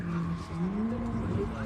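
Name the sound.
car tire squeal while skidding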